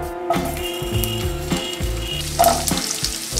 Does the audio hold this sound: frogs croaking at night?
no